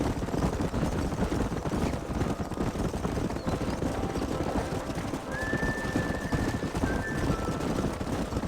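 Horses in the Red Dead Redemption video game, a herd driven up a canyon, whinny over a dense, continuous rumble of hooves and movement, with a thin high neigh standing out midway.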